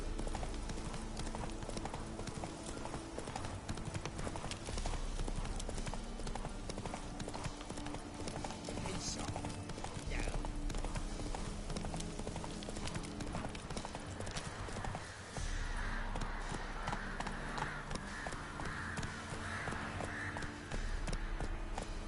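Hooves of the horse Roach clip-clop continuously in the game Witcher 3, a steady galloping rhythm over ambient game sound, with a voice briefly speaking.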